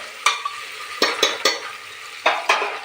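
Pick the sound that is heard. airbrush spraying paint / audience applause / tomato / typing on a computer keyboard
tomato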